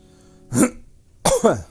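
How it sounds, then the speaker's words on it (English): Two short bursts of throat clearing, close and loud, separated by a brief pause, with no talking. "Pardon me, I'm going to try to clear my throat real quick."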